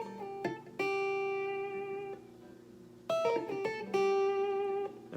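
Electric guitar picking clear sustained notes including a high octave E, bright ringing tones in short phrases with pauses between, fairly quiet and alone.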